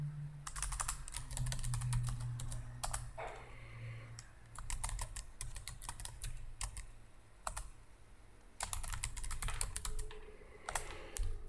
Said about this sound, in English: I just type in each one and hit enter.